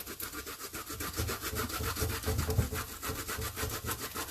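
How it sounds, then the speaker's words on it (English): Fresh ginger is rubbed over a hand grater at home, making a steady run of close rasping strokes in a quick, even rhythm for several seconds. "we love ginger in this house, so I'm adding quite a bit, but I'm just gonna grate it until I get back to where I've chopped"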